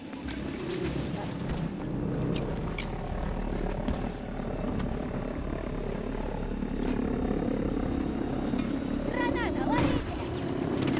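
In the video game Battlefield 2042, an evacuation aircraft's warmed-up engines drone steadily as it lands, a loud sustained roar mixed with distant gunfire, effects and voices.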